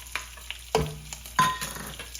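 Three to four large green chillies drop into roasted cumin for sweet potato khichdi, giving two sharp sizzling bursts over a quiet background crackle with small scraping clicks.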